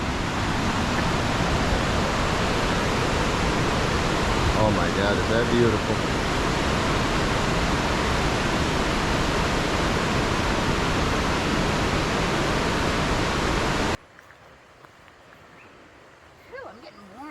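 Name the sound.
waterfall on the Dosewallips River trail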